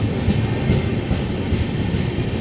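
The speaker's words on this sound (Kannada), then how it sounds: "ಟ್ರೈನ್ ಮುಂದೆ ಹೋಗ್ತದೆ ನೆಕ್ಸ್ಟು" A train departing a station rumbles steadily nearby, a dense continuous roar of rolling wheels and carriages with no voices.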